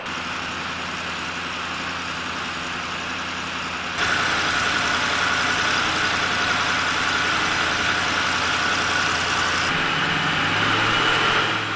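A turbocharged TVR Chimaera V8 engine runs steadily at high load on a hub dyno, a loud continuous roar with a turbo whine that rises after a few seconds, no voices.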